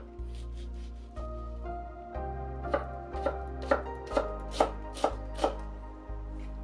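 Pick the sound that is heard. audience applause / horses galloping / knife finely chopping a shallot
knife finely chopping a shallot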